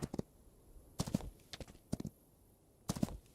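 Horse hooves clip-clop in the Wild West battle royale game Grit, arriving as clusters of sharp, close hoof strikes roughly once a second with quiet gaps between them.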